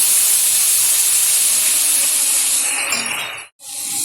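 Ginger-garlic paste and spices frying for chicken curry, a loud, steady, close hissing sizzle that holds evenly before cutting out abruptly for a moment and returning.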